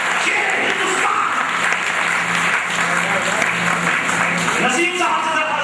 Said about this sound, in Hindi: जोरदार तालियों से सम्मान कीजिए